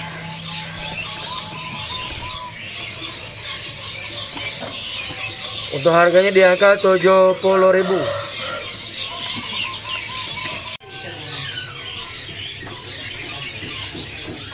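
Female sea teledekan bird calling from a cage at a bird kiosk, a brief burst of stacked whistling notes in the middle over steady background chirping of other birds, with someone talking throughout.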